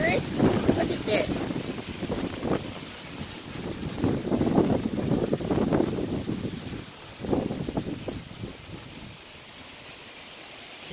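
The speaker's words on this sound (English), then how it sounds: "Canopy over there blowing in the wind." Wind gusts outdoors after a storm, buffeting the microphone and rustling a canopy in surging waves, loud for several seconds then easing, with faint voices in the background.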